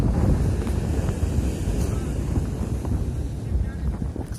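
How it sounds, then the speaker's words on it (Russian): Sea waves wash onto a beach in Turkey on a windy day, a dense, steady roar of surf mixed with wind buffeting the microphone, loud and unbroken throughout. "Такая волна сегодня душевная"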